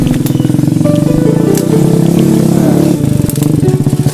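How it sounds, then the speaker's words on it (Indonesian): A modified farm motorcycle, a dolak used for hauling harvest, rumbles loudly past on a village path to the rice fields, its rough, pulsing engine droning close and steady before easing off. "yang barusan lewat itu namanya dolak atau motor yang dirombak"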